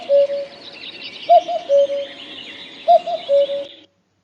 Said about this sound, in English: admired the melodious songs of the cuckoos